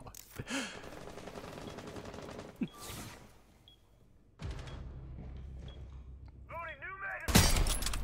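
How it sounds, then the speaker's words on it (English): Grenade going off in Rainbow Six Siege, a sudden loud, close blast near the end that follows scattered gunfire, clatter and a low rumble, with a voice talking through parts of the clip. "Nice nade."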